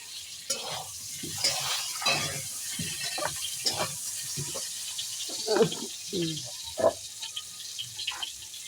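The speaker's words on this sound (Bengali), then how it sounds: "আর এদিকে দেখো যে আলু ভাজা বসিয়ে দিয়েছে আলুটাকে ভালো করে লাল লাল করে সুন্দর করে ভেজে নেব" Potatoes fry in a pan, a faint sizzle underneath repeated scraping stirs and clinks of a spatula, with scattered background voices and noises around the cooking.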